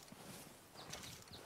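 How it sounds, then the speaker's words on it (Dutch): A horse's hooves clop faintly and rhythmically as it approaches through deep snow in the Grizzlies region of Red Dead Redemption 2, quiet and without speech. "Ik roep even mijn paard erbij"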